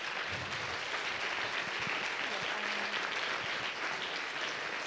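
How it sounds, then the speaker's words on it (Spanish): Applause from a panel audience at a Spanish-language film industry conference, steady dense clapping filling the whole stretch without pause. "quisiera pedirles un aplauso para los panelistas"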